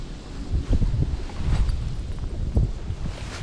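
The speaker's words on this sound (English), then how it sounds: "Wind in my face," Strong, gusty wind buffeting the microphone outdoors while a Shimano Metanium Shallow Edition baitcasting reel is cast, with rumbling thumps that rise and fall and no speech.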